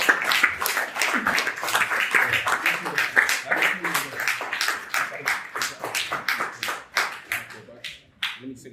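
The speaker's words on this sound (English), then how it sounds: "Give us a round of applause." Applause at a Manhood Academy rites of passage graduation ceremony, a small group clapping in quick, uneven bursts that carry on for several seconds before thinning out, with voices faintly beneath.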